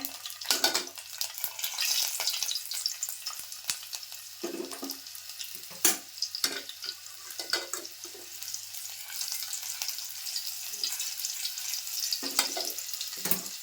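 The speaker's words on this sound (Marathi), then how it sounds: "तेल तापलं काय लसूण टाकले आता" Garlic dropped into hot oil in a cooking pot sizzles faintly and steadily, broken by sharp clinks and scraping stirs of a utensil against the metal at irregular moments.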